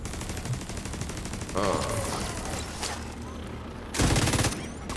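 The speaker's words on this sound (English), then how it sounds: "Those bullets just can't seem to sneak past that minigun." Minigun in The Division 2 firing in sustained rapid bursts, loud and close, with a brief pause before another heavy burst near the end.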